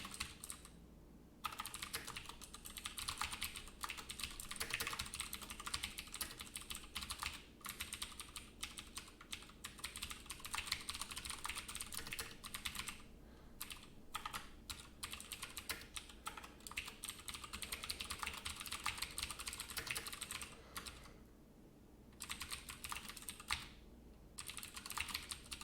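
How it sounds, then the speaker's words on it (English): Steady, fast typing on a computer keyboard during a programming session, with dense clattering keystrokes that run almost continuously and pause only briefly a couple of times. No voices. "I keep hoping my typing will improve to where this double capital letter thing doesn't happen"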